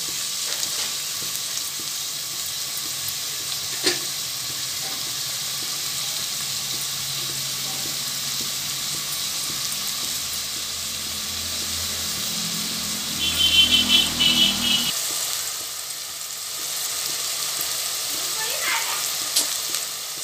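Prawns frying in a pan for a Telugu telagapindi curry, a steady soft sizzle running throughout, with a brief louder stirring clatter around the middle and faint background sounds.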